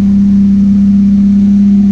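A loud, close car engine needing a tune-up holds a steady, even idle drone with no talking.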